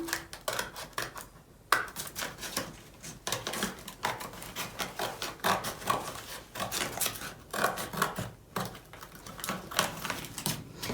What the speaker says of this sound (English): If you have some part of the box that is showing, just trim it and it's okay.